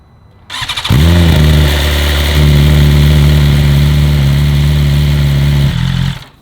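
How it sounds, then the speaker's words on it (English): A 2020 BMW S1000RR M sportbike with a freshly flashed Stage 1 ECU cranks and fires up, then settles into a loud, steady high idle that holds for several seconds before cutting off. "Make sure my bike still starts."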